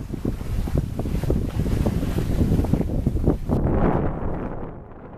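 Sailboat cutting through the water close-hauled in a brisk breeze, heard from the bow: wind rushes over the microphone above continuous water wash and splashing along the hull, with no talk.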